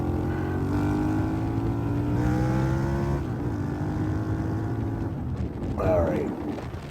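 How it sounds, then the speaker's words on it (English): A Harley-Davidson V-Rod with Vance & Hines exhaust pipes pulls hard up through the revs with a loud, deep, continuous engine roar that rises in pitch, shifts gear and climbs again, heard close up. "This V-ROD, this Harley Davidson, it's aggressive. This bike has a set of Vance & Hines pipe on it"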